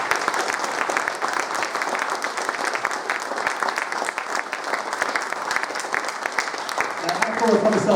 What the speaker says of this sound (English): please give our special guests a round of applause